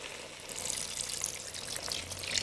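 Water pours into a cooking pot, a faint, continuous splashing trickle that runs steadily for a couple of seconds in a quiet kitchen.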